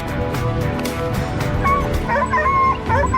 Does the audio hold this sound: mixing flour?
no